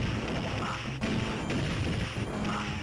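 Cannon shells shattering under light-gun fire in the Sega Mega Drive shooter Lethal Enforcers 2, a dense, loud wash of crashing game effects with a couple of sharp impacts, no voices.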